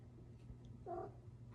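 A cat lets out a single short meow, quiet and close, in an otherwise hushed room with a low steady hum.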